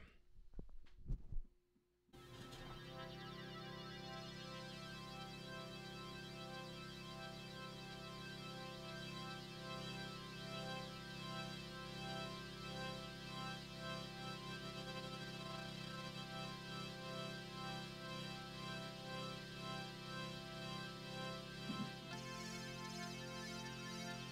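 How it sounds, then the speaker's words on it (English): An organ-style sine-wave synthesizer patch based on a Juno organ wave in Ableton holds a sustained chord. LFO rate modulation makes the level pulse in a steady rhythmic throb after a short broken start. "check out what happens when I play with the rate and the LFO amount"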